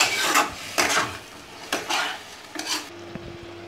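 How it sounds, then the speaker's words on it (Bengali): Ginger, garlic and green chili paste masala being sautéed in oil, heard as four rhythmic, close scraping strokes of a spoon against the pan over a soft sizzle, with a faint tonal hum creeping in at the end. "এই মশলাটাকে ততক্ষণ কষাবো যতক্ষণ না এর তেলটা বেরিয়ে আসে।"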